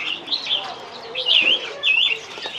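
Caged ornamental birds at the Van Phuc antique market in Ha Dong, Hanoi, give off bright, overlapping chirps and trills in repeated bursts, moderately close, with no talking.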